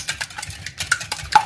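Eggs beaten by hand in a bowl while making purple tapioca pearls, giving a quick irregular run of light clinks and taps close by, with no talking.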